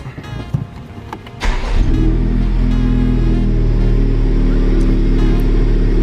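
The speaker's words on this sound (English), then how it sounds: "I'm gonna go ahead and fire her up." A Honda Civic Type R engine cranks and catches at about 1.5 seconds, then settles into a steady, loud idle rumble after some quieter handling noises at the start.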